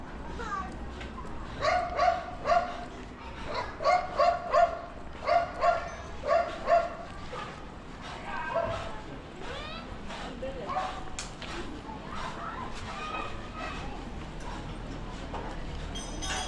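A dog upstairs in a Tondo, Manila neighborhood barks repeatedly in quick bursts from somewhat above and off to one side, then quieter yips and whimpers, with faint voices in the background.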